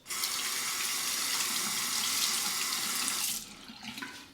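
Running tap water steadily rinses a 34C safety razor for about three seconds, a bright hissing splash that stops abruptly, followed by faint dripping and handling sounds.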